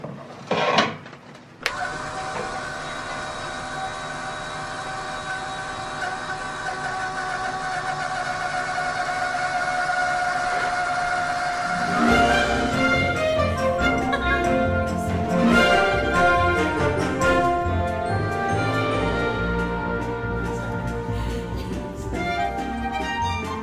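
A diesel fuel polishing system on a sailboat starts with a clunk and settles into a steady electric pump hum, then runs on with added rattling and whirring layers.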